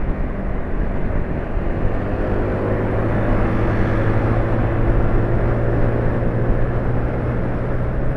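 Steady, smooth idle of a three-cylinder motorcycle engine, a constant even low hum with no roughness, close and continuous.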